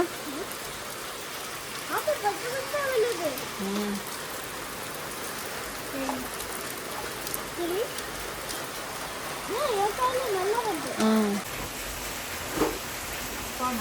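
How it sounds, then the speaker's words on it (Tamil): Steady rain falls on surfaces, a continuous hiss with pattering drops throughout, while people talk intermittently over it. "நல்ல மழை பெய்யுது"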